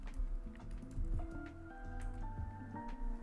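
Quiet, quick keystrokes on a computer keyboard, irregular clicks and taps over a few seconds with low background hum and no talking.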